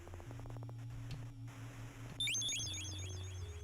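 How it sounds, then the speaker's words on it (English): Harsh white-noise static fills the background throughout, with steady hum and tonal lines, then a sudden jump in loudness partway through as sweeping, chirping radio-like distortion joins the hiss. No one speaks. "White noise?"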